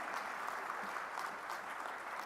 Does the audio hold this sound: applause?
yes